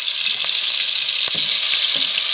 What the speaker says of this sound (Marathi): आता मिरची वाटलेली टाकून घेते